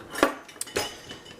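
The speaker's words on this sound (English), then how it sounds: "Even the silverware drawer, there's too much silverware for the organizer." Metal silverware clinks and clatters in a crowded kitchen drawer, a few sharp, close jangles over about a second with no voices.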